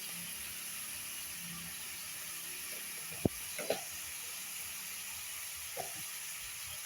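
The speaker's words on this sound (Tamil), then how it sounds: "மஞ்சள் போட்டு நல்லா வதக்குங்க" Onions sautéing with a little turmeric in a pan for spicy Maggi noodles make a soft, steady hiss, with a sharp utensil tap and a few brief stirring scrapes.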